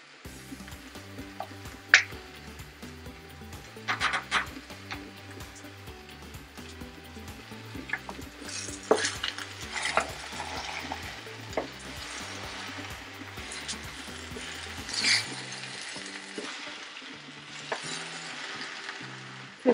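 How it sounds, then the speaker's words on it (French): Olive oil added to a pan of sautéed spinach with ribs, bringing a steady close sizzle and frying crackle with scattered clicks and stirring sounds, while a faint rhythmic tone runs underneath. "Moi, j'ajoute l'huile d'olive."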